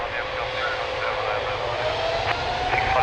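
A jet airliner taking off from runway 02 at Lisbon Airport, a continuous distant engine roar holding steady, with faint radio chatter and a thin whine over it.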